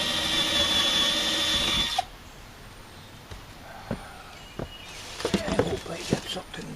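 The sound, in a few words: power drill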